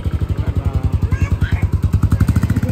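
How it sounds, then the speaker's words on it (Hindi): A motorcycle taken out for a short ride close by, its engine thumping in a fast, even rhythm with loud regular pulses throughout, while faint voices are heard in the background. "वो एक चक्कर लगाएगा बाइक का तभी जाके वो मानेगा"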